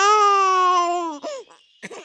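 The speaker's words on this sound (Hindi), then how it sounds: "बच्चे की रोने की आवाज आती है।" A baby cries in one long, loud, high wail that falls away, then breaks into short sobbing bursts, close and alone.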